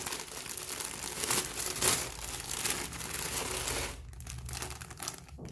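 Paper crinkles and rustles as Christmas decorations are handled, including a paper garland and a greeting card. The crackling comes close and moderately loud in irregular bursts, then quietens toward the end.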